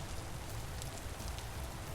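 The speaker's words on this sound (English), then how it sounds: "And it's raining." Steady rain in the video game Vintage Story, a dense even hiss of drops on surfaces, continuous and fairly faint throughout with no talk.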